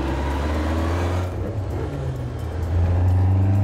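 A Ferrari cruising with a steady low engine drone and road rumble heard from inside the car, the pitch lifting slightly as it accelerates toward the end.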